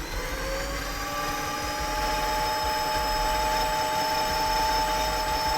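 A combat robot's weapon motor spins steadily at about 1000 RPM under closed-loop speed control, giving a continuous high whine with tonal hum that stays even and close throughout.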